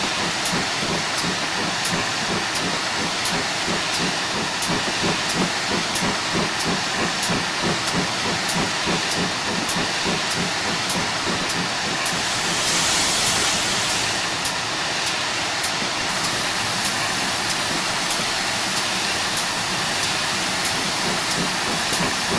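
A GWR Hall steam locomotive works along the West Somerset Railway, its steady rapid chuffing layered over a constant loud hiss of steam. The sound runs unbroken with a brief surge of extra hiss midway, with no talking.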